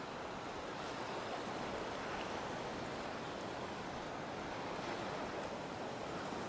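Steady surf rolling onto a Florida beach, a continuous broad wash of waves mixed with gusting wind buffeting the microphone, unbroken and fairly even throughout.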